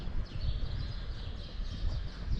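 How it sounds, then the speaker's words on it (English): Noisy birds call around Santa Ponsa, Mallorca, giving a busy layer of faint, high chirps and twittering over a rumbling outdoor background with no voices. "Oh, you've got some noisy birds."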